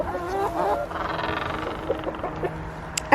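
Chickens cluck softly in short bursts around a nest box, a few scattered calls close by with a sharper sound near the end.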